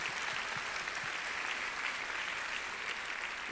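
A church congregation gathered for a sermon on a rainy day applauds steadily, the massed clapping even and somewhat distant throughout.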